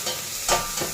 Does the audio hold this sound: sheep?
no